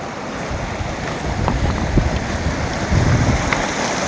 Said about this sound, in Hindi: नदी की आवाज़ कितनी सुंदर है,